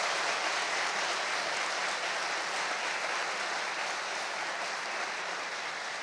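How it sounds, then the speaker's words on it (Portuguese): A church congregation breaks into steady, even applause that fills the room at moderate volume without voices rising above it. "Eu gostaria que a igreja desse um aplauso para o nosso Deus por essa geração."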